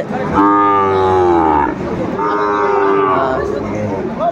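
Sahiwal breed cattle at the Aftabganj livestock market in Dinajpur give two long, loud moos one after the other, close by, with a soft murmur of the market behind.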